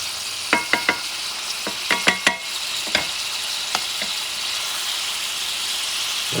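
Shrimp for garlic shrimp sizzling in a pan over medium-high heat, a steady close hiss broken by several sharp clicks and pops early on, then settling into even frying.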